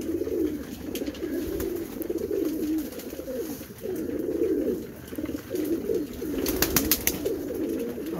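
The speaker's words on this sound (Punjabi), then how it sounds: "ਬਹੁਤ ਮਸਤੀ ਵਿੱਚ ਕਬੂਤਰ ਨੇ ਮਾਸ਼ਾਅੱਲਾ ਸਾਰੇ।" A flock of around two dozen active pigeons coos continuously at sunset, layered overlapping calls that stay steady and close throughout.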